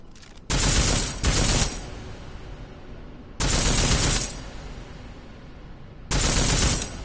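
Armor-piercing gunfire in Deus Ex: Mankind Divided, three loud sustained bursts of rapid automatic fire separated by quieter stretches of room tone.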